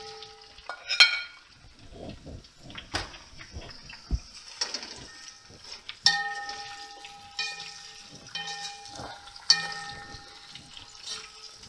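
Vegetables sizzle and fry in a kazan while a utensil stirs them. Scraping, clatter and crackle come in bursts over a quiet hiss, close up and fairly faint.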